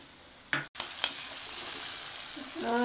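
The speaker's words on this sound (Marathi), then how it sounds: "आणि हे चांगले आपण परतून घेणार आहोत एक चमचा आपण चिली सॉस टाकलेला आहे" Paneer chilli mixture with onion and a spoonful of chilli sauce sautéing in a pan, a steady close sizzle and fry with brief stirring scrapes, no talk.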